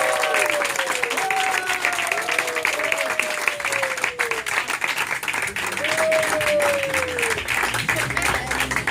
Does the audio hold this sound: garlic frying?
no